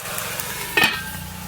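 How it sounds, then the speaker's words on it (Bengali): Bottle gourd greens sizzle in a wok with mustard seeds, dried red chilli, whole garlic, salt and a little turmeric. There is a soft, steady frying hiss and one brief louder scrape as the greens are stirred. "এবার নেড়ে চেড়ে ঢাকা দিয়ে দেবো।"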